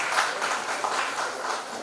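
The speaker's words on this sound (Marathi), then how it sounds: "आणि असे वारकरी याच्यासाठी एकदा सगळ्यांनी टाळ्या वाजवा." An audience claps together for the warkaris, the pilgrims who walk in the dindi procession; the applause is a steady, dense patter that holds evenly throughout.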